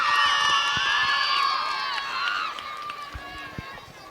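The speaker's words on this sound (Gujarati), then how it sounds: "જોરદાર તાળીઓ થઈ છે અમારા બાળકો માટે" Children and audience at a school annual day celebration, excited high-pitched shouts and cheering from many young voices, with scattered claps and thumps beneath, fading slightly toward the end.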